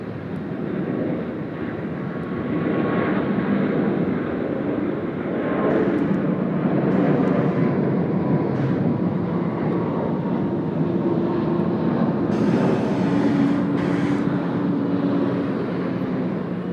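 A Jetstar airliner lands on runway 34 left at Sydney Airport with a sustained, moderately loud roar of engines and rushing air, swelling slightly midway, heard from a distance with no talk.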